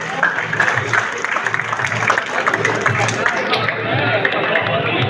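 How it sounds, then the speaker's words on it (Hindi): Audience applause at a prize ceremony for a pigeon-flying memorial cup, steady dense clapping from a crowd with murmuring voices throughout, fairly loud and continuous. "तो बहुत सारी तालियां जी।"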